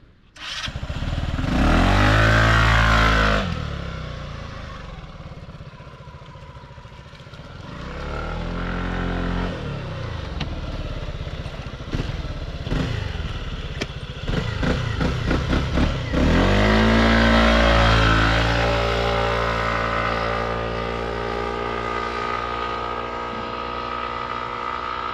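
A FKM Fekon Venture 150 scooter on a road test, its engine revving hard in loud bursts that rise and fall through several accelerations, with the drone carrying on steadily between them and no talk over it.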